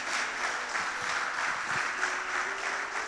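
Church congregation applauding for the Lord during a service, a soft, steady wash of clapping heard at a distance, continuous throughout without voices.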